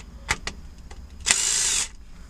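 A power tool spins out screws on a Honda S2000 during clutch work: two brief taps, then a short, close whirring burst of about half a second.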